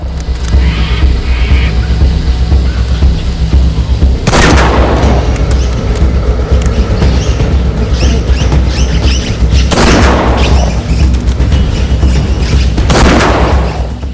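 Gunfire in the bush: three loud, sharp blasts spaced several seconds apart ring out over a constant low outdoor rumble.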